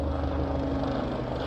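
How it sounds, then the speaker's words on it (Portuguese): A helicopter flies over an apartment that sits on a helicopter route, giving a steady low droning hum with even tonal bands and no speech. "tem um helicóptero passando aqui"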